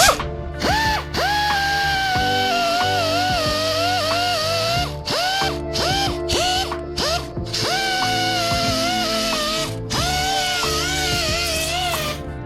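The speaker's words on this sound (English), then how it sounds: "Comes in different grits, little belt sander." A small handheld belt sander running in a shop, its motor whining up in pitch at each start and then settling, in repeated runs with brief pauses between them, loud and close, with no speech.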